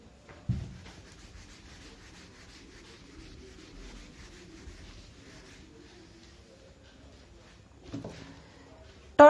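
Writing is rubbed off a board during a physics lesson, making a faint, continuous scrubbing sound, with a few knocks at the start and near the end.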